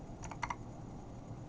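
Computer keyboard typing at a command prompt: a few quick key clicks in a short burst, close and fairly quiet, over low room noise.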